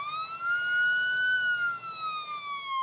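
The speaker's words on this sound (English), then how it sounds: "An ambulance!" An ambulance siren wails in a steady, slowly rising and falling tone, loud and close, with no voices over it.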